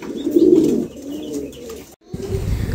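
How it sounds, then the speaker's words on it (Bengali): Pigeons coo nearby in low, throaty rolling calls, with a louder burst at first, a brief gap, then more cooing. "এটা কবুতরই মার্শাল্লাহ খুবই চমৎকার।"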